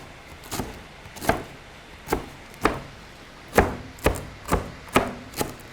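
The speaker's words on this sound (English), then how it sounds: "I'm going to turn my cutting board and then cut them this way" A knife chops greens on a cutting board in a slow, uneven series of about ten crisp, close thuds spaced roughly half a second apart, with no talk.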